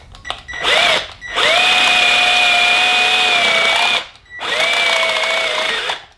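A power tool cuts a notch into a round end, a loud steady whine near at hand in two long bursts separated by a short stop, with brief revving at the start.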